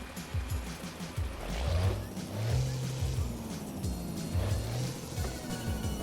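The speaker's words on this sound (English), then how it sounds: "Oh, it's one of these rev limited engines." A truck engine in American Truck Simulator, a rev-limited diesel, drones with a low, steady rumble that rises and falls in pitch through repeated revving swells.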